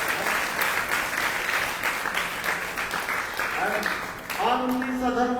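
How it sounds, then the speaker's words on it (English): An audience claps loudly in a hall during an evening Bhagavata-saptaha religious gathering, with dense, sustained applause; near the end a voice begins talking over it. "Give a big round of applause for him."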